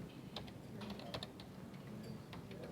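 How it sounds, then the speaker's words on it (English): Quiet, irregular keystrokes on a computer keyboard typed with one hand, a sparse cluster of soft clicks with short pauses between them. "trying to type with one hand"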